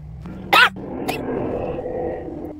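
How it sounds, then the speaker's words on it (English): A single sharp, dry cough bursts out loud and close near the start, followed by a fainter throat sound and low background murmur. "Sorry, I've been coughing a lot."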